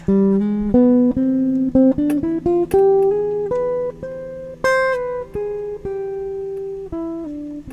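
A single melodic line of plucked guitar notes on a Gibson Howard Roberts Fusion climbs and falls step by step through a harmonic tetrachord scale, each note ringing clearly before the next, played alone at moderate volume.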